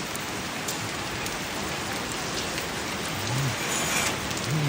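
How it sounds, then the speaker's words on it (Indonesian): Steady heavy rain pours down in Sangala during flooding, a dense continuous hiss of water on surfaces with occasional drips, no voices. "Hujan masih terus mengguyur"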